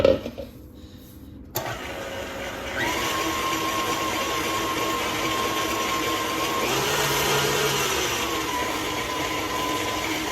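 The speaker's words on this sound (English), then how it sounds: "We're going to allow this to mix together until it comes together and forms one big dough ball against the hook" A stand mixer with a dough hook kneading hamburger bun dough: a motor whirs up after a brief quiet, then a steady mid-pitched electric drone runs on with a slight rise partway through, close and fairly loud.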